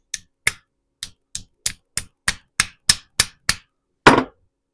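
A hammer strikes steel pins on a hoof knife handle about a dozen times in a steady rhythm of sharp, ringing taps, ending with one heavier, longer blow.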